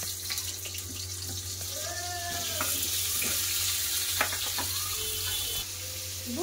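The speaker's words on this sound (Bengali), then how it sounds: "ওই তেলে লবণ হলুদ আছে, ওইতে পটল ভেজে নেবো" Pointed gourd fries in oil seasoned with salt and turmeric, giving a steady, moderately loud sizzle with a few scattered clinks and stirring scrapes, close by and with no one talking.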